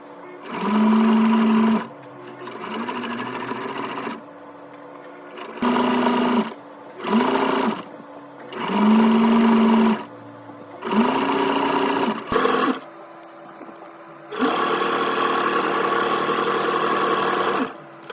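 A sewing machine runs a zigzag stitch along the folded edge of a receiving blanket, in several close, loud bursts of motor hum that start and stop, with one longer final run and short pauses between.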